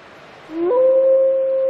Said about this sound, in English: Her howls identify her as an available female.